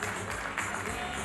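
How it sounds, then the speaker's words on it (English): Audience applause at a dinner event, a steady wash of many hands clapping in a room, brief and sustained at a moderate level with no distinct individual claps standing out. "Let's be generous with our applause tonight"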